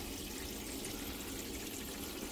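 Water drains steadily from a camper's water circuit in the snow, a continuous close hiss and gush with no break across the clip.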